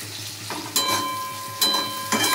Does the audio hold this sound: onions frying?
yes